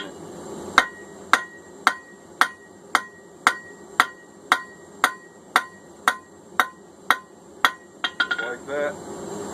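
Hammer blows flattening a forged S7 tool steel eye drift on an anvil, a steady series of about fifteen sharp ringing metallic strikes roughly half a second apart, close and loud, ending in a quick cluster of lighter taps.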